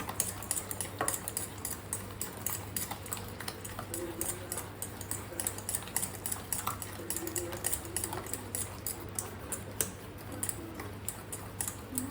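Whisk lightly beating batter for bomboloni in a bowl, producing soft, rapid, irregular ticking clinks that run throughout over a low steady hum.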